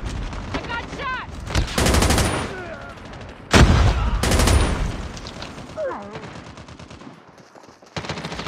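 Gunfire from Call of Duty Mobile rattles in heavy automatic bursts, some loud and close, others further off, with in-game voice callouts heard between the shots.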